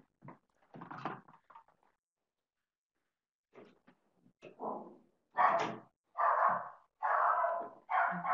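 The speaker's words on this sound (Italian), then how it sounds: "Ecco, c'ho il cane ora" A dog barks indoors in a room during an online lecture, several loud separate barks coming close together, with short scattered bursts of sound before them.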